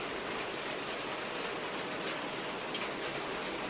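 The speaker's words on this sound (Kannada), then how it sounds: "ಮಳೆಯಲ್ಲಿ ಜೊತೆಯಲ್ಲಿ ಈ ಮಳೆಯ ಹನಿಗಳ ಶಬ್ದದಲ್ಲಿ" Rain falls steadily, a soft even hiss of raindrops on surfaces that stays constant and moderately faint throughout, with no voices.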